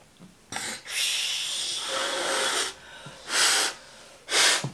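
A child blows air during a speech therapy breathing exercise at home, with several breathy blowing bursts: one long sustained puff, then shorter forceful blows with pauses between, close to the microphone.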